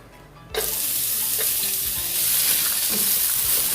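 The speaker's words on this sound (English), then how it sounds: "Saute this for a minute." Carrots drop into hot vegetable oil for a Jamaican steamed cabbage, and a loud, dense sizzle bursts in after a quiet moment and stays strong and close, with a few low spoon bumps.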